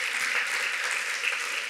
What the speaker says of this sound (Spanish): damos un aplauso una vez más a nuestro Salvador